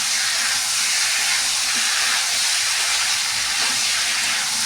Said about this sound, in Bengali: আমি জল ঢেলে দিয়েছি